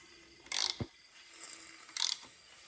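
A blown BMW M52 turbo engine is turned over by hand, giving quiet ratcheting mechanical clicks in two short bursts with faint scraping between them, close and unaccompanied by speech.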